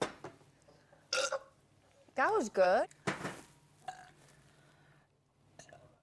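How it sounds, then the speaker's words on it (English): A person burps deliberately in a long, croaking, wavering belch, with a few shorter bursts around it, set among nearby talk and laughter in a Celebrity Big Brother house. "They're not like a truck driver's burp."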